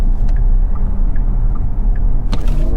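An electric Porsche Macan Turbo rolls on from about 50 km/h on a highway, giving a loud, steady road-and-tire rumble inside the cabin with no engine note and no talk.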